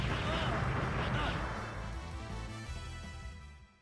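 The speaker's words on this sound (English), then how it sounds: "That was some pretty good explosion." An explosion from the video game Valkyrie Profile booms at the start and rumbles as a broad crash, then dies away over a few seconds.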